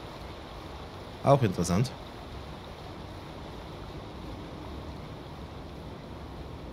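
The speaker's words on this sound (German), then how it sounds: "Es regnet. Also ich höre den Regen, aber ich sehe keinen Regen." A steady, even hiss of rain in a train simulator game runs throughout. A person says a brief remark near the start.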